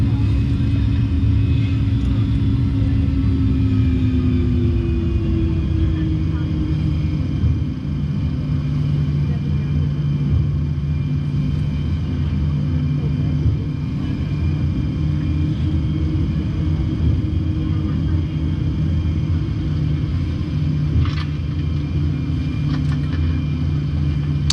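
A Boeing 737 rolls down the runway for takeoff, with a steady, loud low engine roar and rumble that fills the whole stretch and rises slightly in pitch partway through.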